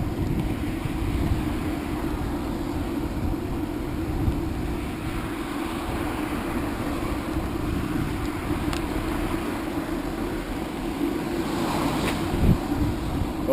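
Strong wind buffeting the microphone on a bike ride in Japan, a constant low rumbling roar with gusty swells and no talking.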